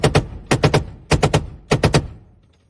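A Turkish MRAP fires at SDF fighters in four short bursts of automatic gunfire, each of about three sharp, loud shots, evenly spaced with brief gaps and a fading echo at the end.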